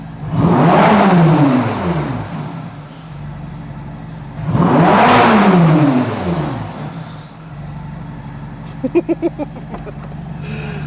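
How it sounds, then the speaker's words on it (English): A Ferrari engine revs hard twice, each rise and fall sweeping up and back down, then idles with a low rumble and a few brief clicks. "Why didn't I rev the car since it's already started?"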